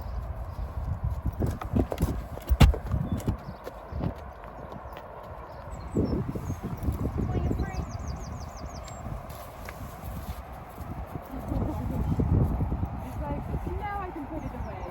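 Horse hooves clip-clop steadily through a riding session, close and fairly loud, with occasional birdsong and a few spoken words from the rider over the rhythmic steps.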